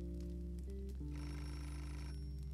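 A telephone rings in the video game Beholder, a steady electronic bell tone repeating over a constant low background hum, with a brighter ringing burst midway, no speech.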